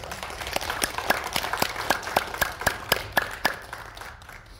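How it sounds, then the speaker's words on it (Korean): A church congregation claps to welcome a visiting pastor at an early-morning hospital chapel service, with sparse, uneven individual claps standing out distinctly over a soft background, moderately close and fading toward the end. "우리 목사님 박수로 환영해 주시기 바랍니다."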